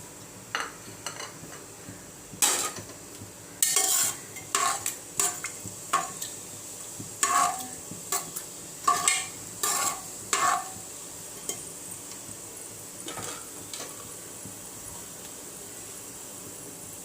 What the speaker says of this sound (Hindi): 1 कप ऑयल गरम करने मैंने रख दिया हुआ है। तो खड़े मसाले ऐड कर रही हूँ।